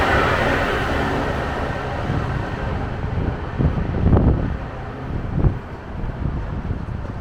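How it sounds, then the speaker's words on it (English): Wind gusts across a London street in Kensington, roaring steadily into the microphone with rumbling surges and buffeting, loud and close throughout, with no voices. "Wind's picking up again."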